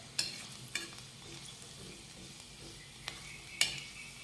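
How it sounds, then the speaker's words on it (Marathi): Garlic fries gently in oil over a low flame, a quiet, even sizzle close by, punctuated by a few sharp clinks of a spoon against the pan. "मंद आचेवरच हा लसूण व्यवस्थित परतून घ्यायचा"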